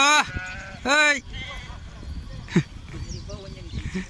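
Two loud, close goat bleats in quick succession near the start as goats head to drink water, followed by quieter rustling, a brief knock, and fainter distant bleating.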